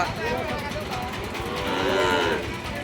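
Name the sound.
Sahiwal cattle mooing at a cattle market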